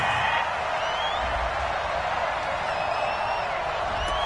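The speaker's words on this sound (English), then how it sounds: "Well, the crowd doesn't like that." Football stadium crowd at a Cleveland Browns game in 2019 roars steadily in disapproval after a penalty flag on third down, a dense, continuous wall of noise throughout.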